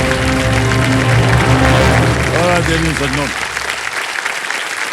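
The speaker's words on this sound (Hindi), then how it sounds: "तालियां बजती रहें इनके लिए।" A game-show studio audience applauds the contestants, a dense sustained roar of clapping under a host's spoken words, fading toward the end.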